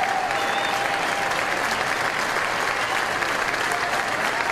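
An LSU Tigers crowd cheers and applauds at a college baseball game against Georgia, a dense, sustained roar of clapping and shouting that stays loud and steady throughout, with a few faint whistles.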